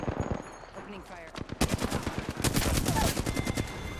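In Apex Legends Season 5, rapid automatic weapon fire from a flatline cracks in dense close bursts, some spaced, some continuous, building louder over the second half, with a player's voice talking early on.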